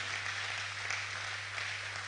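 Steady applause from a crowd, a dense even patter of many hands clapping throughout, with a constant low hum underneath.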